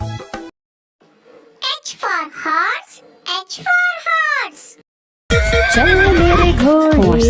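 A horse whinnies with a rising and falling cry, then several more neighs follow, and loud music from a children's alphabet song starts up near the end.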